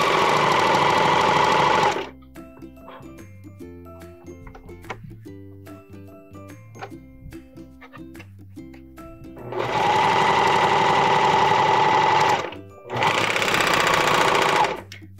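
Viking Amber Air S 400 serger stitching around a square of fabric, a loud, smooth, fast mechanical whir in three bursts separated by quieter mechanical clicking and low hum.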